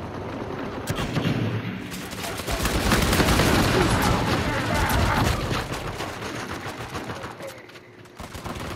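Sustained automatic fire from an MP34A gun in Uncharted 4, loud rattling bursts that swell through the middle and ease off toward the end, with other battle noise around them.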